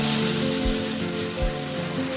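Onion paste hits hot ghee and oil already holding cardamom and cinnamon, giving a close, continuous sizzle with a dense crackling hiss and a couple of soft low thumps.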